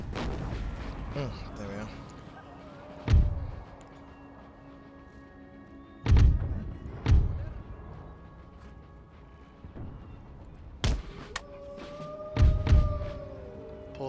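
Artillery volleys in an Empire: Total War mod battle, the Empire 2 mod's Sweden campaign against Great Britain: several heavy booming thuds at irregular intervals, some paired close together, under a low battle din with someone talking over it.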